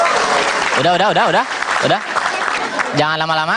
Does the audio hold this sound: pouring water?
no